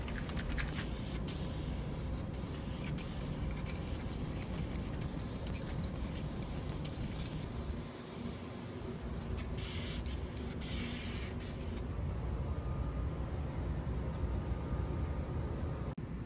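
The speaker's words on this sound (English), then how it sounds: "like the underside of this trunk lid, I'll save time and cleanup by just using a 2-part spray can" Continuous close spray from a 2-part aerosol paint can coating the underside of a Camaro trunk lid, a steady hissing spray with a brief pause midway and faint clicks, no voices.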